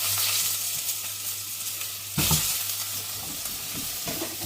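Meatballs browning in a hot pan for a meatball minestrone, a steady close sizzle with stirring scrapes and a louder burst of frying partway through.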